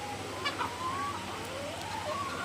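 Farm chickens cluck and murmur close by in short, soft calls over a steady background hiss.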